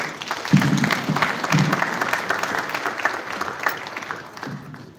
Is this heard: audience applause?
yes